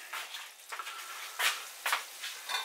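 Minced beef pie filling simmering uncovered in a pan over turned-up heat, giving a steady soft sizzle and bubbling with a few louder spits and pops, close and alone.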